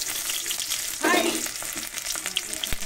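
Onions sizzle in oil with panch phoron spices, a soft, steady crackle, joined by a short burst of stirring and a light tap near the end.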